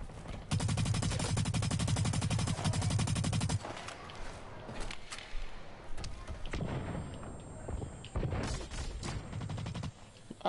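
Rapid automatic gunfire from a Blacklight shooter game, a dense sustained burst followed by scattered shots and thuds, loud and close with no talking.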